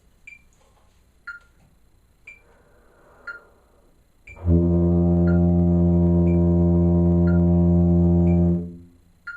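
A steady low tuba tone, a concert F, starts partway through and is held for about four seconds, then fades out. Faint metronome-like ticks sound throughout, alone before the note begins.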